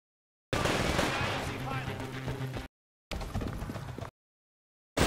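Shotgun fire in Titanfall comes as loud, dense blasts of combat noise in abrupt chunks separated by hard silences, with someone apparently talking over the action.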